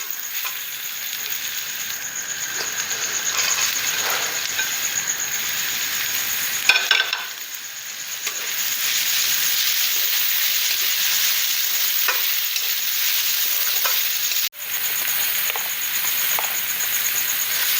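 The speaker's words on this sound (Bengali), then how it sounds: "পেঁয়াজটা ভাজা হয়ে গিয়েছে, এতে আমি ক্যাপসিকামটা দিয়ে দেব।" Steady loud sizzling of onion and capsicum frying in a pan, with occasional scraping stirs and a short pause midway.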